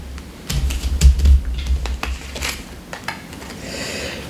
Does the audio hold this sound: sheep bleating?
no